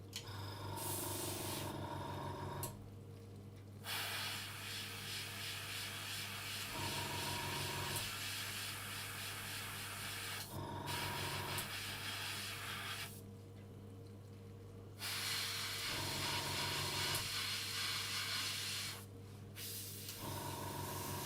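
Spray paint hissing onto a scale model during touch-up after masking, in several steady bursts of a few seconds each separated by short pauses, close and fairly loud, with a low hum running beneath.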